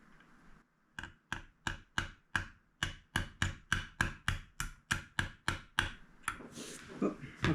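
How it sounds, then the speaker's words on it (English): A small socket hammered onto the inner race of an AC blower motor bearing from a split-system indoor unit, giving about fourteen sharp, evenly spaced metallic taps, close and loud, followed by a brief shuffle of handling noise. "I have this little socket I can put on here and tap only on the inner race"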